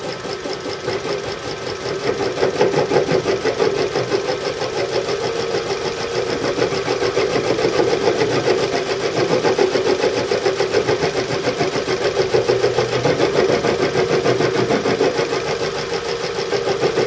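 Axial flux permanent-magnet wind turbine generator with 12 poles and 36 slots spun at high speed, a steady, loud, dense mechanical whir with a buzzing hum that holds for the whole stretch.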